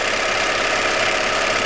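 A Bernina 930 sewing machine runs at high speed, giving a steady, dense mechanical whir with rapid needle knocking, close and continuous with no talk.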